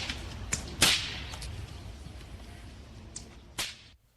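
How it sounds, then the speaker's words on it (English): Bullwhips cracking in a downtown riverside park: two or three sharp, loud snaps spaced a few seconds apart, each rising above a quiet outdoor background with no talking. "that sound is what happens when the tip of the whip breaks the sound barrier."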